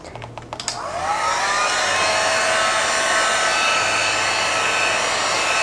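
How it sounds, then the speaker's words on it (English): A few sharp clicks come first, then a craft heat gun roars on with a loud, steady, close blowing hiss that stays even to the end. "I think I'm going to hit it with a little bit of a heat gun."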